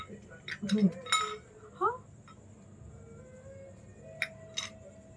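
Clinking of small toy kitchenware as pieces of potato go into a toy cooking pot during doll play, with a few light clinks and rattles, close and soft, under a child's pretend-cooking chatter.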